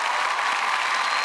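A studio audience at a Marathi comedy show breaks into loud, dense applause, a short burst of continuous clapping with no voices over it.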